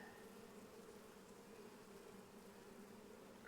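Honey bees buzzing around a frame lifted from a hive, a dense, steady drone of many insects close by, unbroken for the whole stretch, with no talking.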